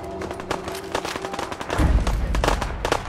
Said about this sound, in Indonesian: Suara kayak tembak.